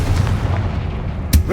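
A Confringo spell blast in Hogwarts Legacy, a loud booming explosion with a deep rumbling low end that fills the moment, capped by a sharp second crack near the end.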